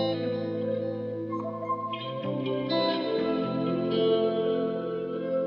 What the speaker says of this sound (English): when I want something to sound really washed out and wet